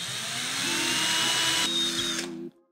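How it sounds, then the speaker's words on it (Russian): A cordless drill-driver fitted with a very thin bit bores holes in a steady, close, high whine that runs for about two and a half seconds, shifts pitch slightly partway through, then cuts out. "берем шуруповерт с очень тоненьким сверлом. Им проделываем несколько отверстий"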